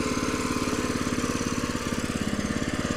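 6.5 hp petrol engine on an 18-inch-wide grass weeder running at a steady speed, a close, even, rapid putter with a regular throbbing beat and no talk.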